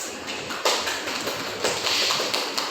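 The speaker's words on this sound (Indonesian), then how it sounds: "beri aplaus kepada Ipan dan Laila." Classroom applause: a room full of students clapping steadily for a few seconds, a dense, continuous patter of hand claps filling the space.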